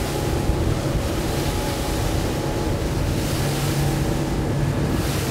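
Honda motorboat riding through swell-like stern waves, a constant loud roar of engine, rushing water and wind buffeting the microphone, steady throughout with no talk.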